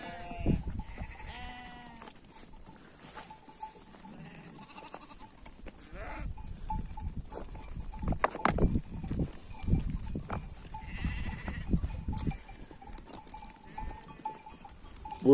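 Sheep bleat repeatedly at varying distances, some calls near and loud, others faint, with rustling and shuffling of a moving flock.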